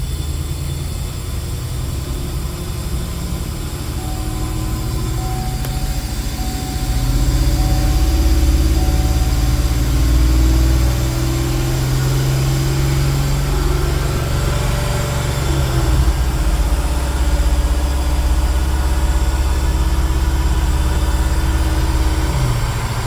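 A car with a 6L80 transmission runs a dyno pull at 18% load with the stock torque converter unlocked, producing a loud, continuous engine drone that steps up in intensity about a third of the way in and then holds steady.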